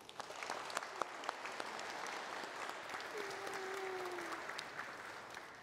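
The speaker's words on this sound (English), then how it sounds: "let us welcome Luella with a round of applause" A church congregation applauds a child's baptism at a gathering service, with a sustained, even round of clapping from many people at a fairly low level and some brief crowd sounds mixed in.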